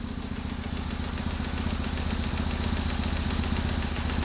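BMW R1150GS boxer motorcycle engine idling steadily while warming up to operating temperature, a close, even, continuous throb with fine mechanical clatter and no speech.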